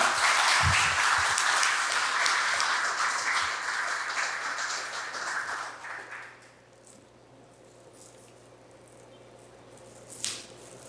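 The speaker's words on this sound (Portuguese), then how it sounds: "pedir uma salva de palmas ao senhor" An audience applauds after a lecture on geopolitics, dense clapping that gradually thins out and fades to quiet room tone by the end.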